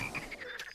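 Cartoon frog croaking in a short burst of a few raspy calls, fairly close and alone without talk, set against a light musical background in an animated classroom scene about frog dissection.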